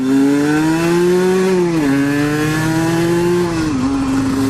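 An Aprilia RS 125 two-stroke motorcycle engine revs hard and loud close by as it pulls into its torque band, its buzzing pitch climbing steadily with two brief dips between gears.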